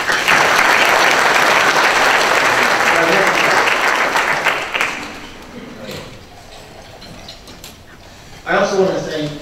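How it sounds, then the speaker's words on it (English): Loud applause from a transportation summit audience in a conference hall, thick clapping for several seconds that thins and fades, then a voice speaks over the quiet near the end. "So you can give all of them a round of applause."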